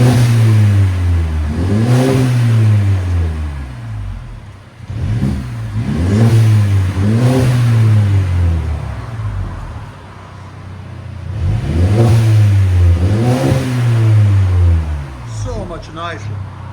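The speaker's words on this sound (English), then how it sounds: "2018 CLA muffler delete. It's got a upgraded blow-up valve too." A 2018 Mercedes CLA 250 with a 2.0L turbo engine, muffler delete and an upgraded blow-off valve revs loudly and close, with four or five sweeping rises and falls in pitch and a few quieter pauses between bursts.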